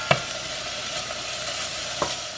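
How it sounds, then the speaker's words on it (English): Fatty kielbasa sausage sizzles in a soup pot while being stirred, a steady close frying hiss with two brief scraping knocks of the spoon. "I'm going to stir this around now so everything browns up a little bit."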